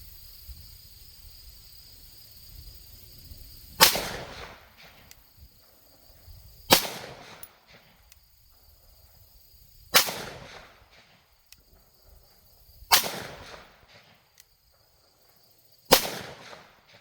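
Five sharp pistol shots from a SIG M17 fitted with an X-series grip and a TLR-1 HL weapon light, spaced about three seconds apart, each a loud crack with a brief echo, over quiet outdoor background.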